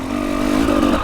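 An enduro motorcycle with a remapped ECU and low-compression head revs hard at close range, a loud, steady engine roar that swells slightly toward the end with no voices over it.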